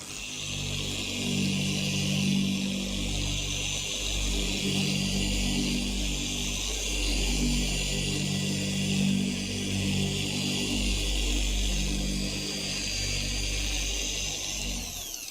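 An electric machine polisher works over car paint in a crosshatch pattern, sped up, giving a steady, loud droning whir with a low rumbling hum that swells slightly as the pad sweeps back and forth, with no talking.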